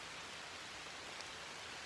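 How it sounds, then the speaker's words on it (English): Light rain begins falling after a long dry spell on a farm, a soft, even hiss of drops, faint and close, heard alone. "Do I feel rain?"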